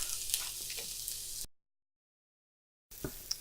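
Chopped onion frying in avocado oil gives a soft, close sizzle with light stirring scrapes, broken by a brief cut to silence before the crackle returns.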